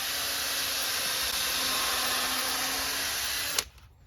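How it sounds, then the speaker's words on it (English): A power drill whirs steadily for a few seconds while pre-drilling thin 2x2 wood for a rabbit tractor, close and loud, then cuts off abruptly with a short knock. "When you're dealing with thin wood, like a 2x2, you always want to pre-drill."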